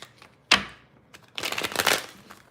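Tarot cards being shuffled by hand give a sharp riffle-like snap near the start, then a longer burst of papery flicking and rustling, close and fairly loud, with quiet gaps between.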